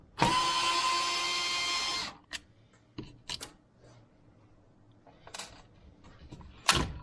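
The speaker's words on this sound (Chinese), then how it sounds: "我们就用十字螺丝把它们打开。" A Phillips screwdriver driver whirs steadily for about two seconds while removing screws from a Ninja Pro BL480 blender during a repair, followed by scattered small clicks and taps of parts being handled, close up.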